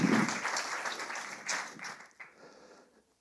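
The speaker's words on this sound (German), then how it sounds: "Und euch andere möchte ich um einen kleinen Applaus für die Köche bitten" Attendees at a Joomla conference give the cooks a short round of applause: a fairly soft wash of clapping that swells briefly, thins out into a few scattered claps and fades to silence.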